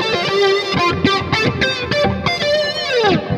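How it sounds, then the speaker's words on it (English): Electric guitar played through an amp modeler with a touch of chorus after the amp, plus echo and reverb, the echoes bouncing between two speakers; a loud, distorted phrase of picked notes and chords with ringing repeats. "a teeny bit of chorus after the amp with echo and reverb, but the echo goes back and forth between the two speakers"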